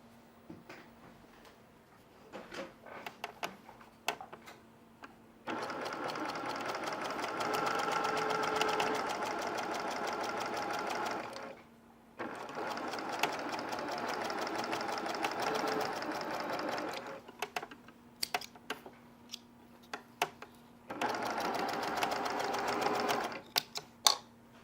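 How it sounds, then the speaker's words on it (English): A sewing machine stitching a long pinned quilt seam, running in three sustained bursts of steady whirring separated by pauses with clicks and handling noises, close and clear with no talking. "I'm going to pin this long seam through there, and I'm going to go sew it on the machine."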